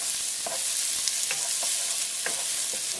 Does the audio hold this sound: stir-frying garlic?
yes